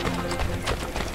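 Horse hooves clip-clop in the video game Assassin's Creed Brotherhood, a brief, loud run of hoofbeats amid dense game ambience, with a voice faintly present.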